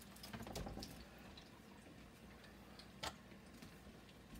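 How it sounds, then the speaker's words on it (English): Water runs from a kitchen tap as batter-covered hands are rinsed beside a pot of frying potato wedges, a soft steady splash with a brief louder knock near the end. "I'm gonna wash my hand, rinse it off real quick"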